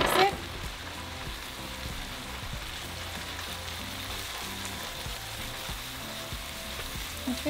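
Flour is stirred into oil in a frying pan, giving a steady, even, rain-like sizzle throughout, with a clink at the start and near the end.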